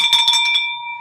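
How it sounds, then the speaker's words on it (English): A single bell is struck and rung in celebration, giving a bright, clear tone that rings on and slowly fades after a brief flurry of strikes. "Ring that bell"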